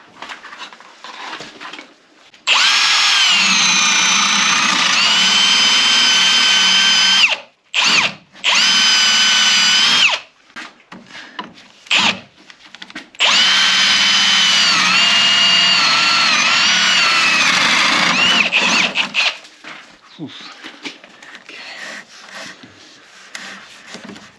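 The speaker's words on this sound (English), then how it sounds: "I'm gonna drill up." A power drill whines loudly in two long sustained runs, with brief stops and short bursts in between, close and steady.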